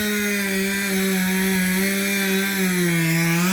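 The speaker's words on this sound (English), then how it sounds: "So the 3rd tree has just been taken down, and they're cutting that up." Chainsaw cutting up a freshly felled backyard tree, a loud continuous engine whine with a slight rising and falling pitch throughout.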